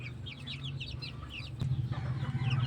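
Texas and native chickens clucking in a backyard flock, several birds making quick soft calls over a low steady hum that grows louder near the end.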